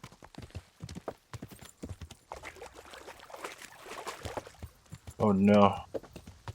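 A black horse's hooves clop in a steady rhythm in the medieval game Kingdom Come: Deliverance, with someone talking over the hoofbeats and a louder burst near the end.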